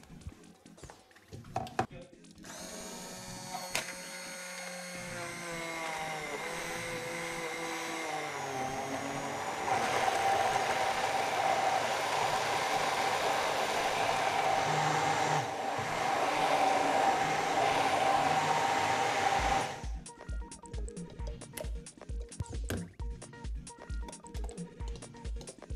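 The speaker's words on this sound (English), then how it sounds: "And now I'm simply going to blend it up." Kitchen blender blitzing a banana, chocolate, chili and milk drink, a loud steady motor whir that changes pitch and runs for about seventeen seconds, with clatter and brief sounds before and after.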